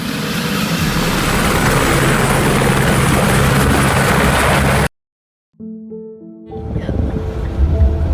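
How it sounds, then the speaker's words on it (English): A helicopter arrives for a hospital patient transfer, loud rotor thumping and engine whine held steady, then a sudden cut to near silence before a fainter tonal hum and the rotor noise returns. "They're calling for the helicopter."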